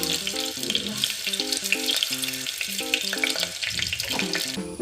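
Hot coconut oil fries in a pan with a continuous hissing sizzle, heard up close beneath light melodic background music.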